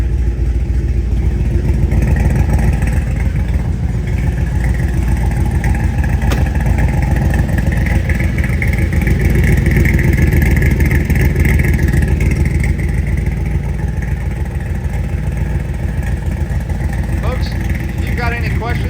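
A 1984 Shelby Cobra replica, a Contemporary Classic Motor Car Company Cobra tribute, rumbles loudly through its side pipe exhausts, a steady low-pitched throb that swells and eases a little, heard close up with no other sounds.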